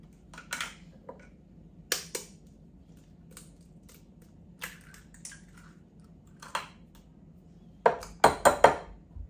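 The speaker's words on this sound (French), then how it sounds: "Je casse 4 œufs entiers." Four whole eggs cracked one after another against a bowl, giving sharp taps and clinks spread across the stretch, then a quick cluster of knocks near the end, close and quiet with no voices.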